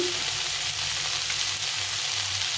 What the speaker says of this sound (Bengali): টমেটো দিয়ে আবার একটু কষিয়ে নিতে হবে